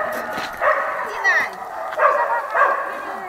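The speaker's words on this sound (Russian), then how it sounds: "Слышите, наверное, как они гавкают." Several dogs at a dog shelter bark and yip in repeated loud bursts, some with whimpering tones, close at hand with a voice also audible.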